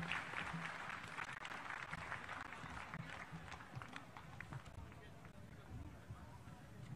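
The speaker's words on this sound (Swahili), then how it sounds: "Tumuongeze makofi tafadhali" Sustained applause from a crowd at a school event in Kenya, a steady wash of clapping filling the whole stretch with a background murmur of voices.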